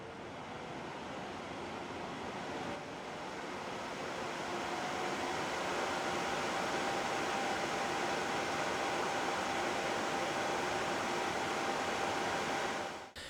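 A laptop cooling pad fan at high speed, up to 2800 RPM, makes a steady, broad whoosh that runs continuously, rising slightly in strength early on and holding at a constant high hum until it cuts off.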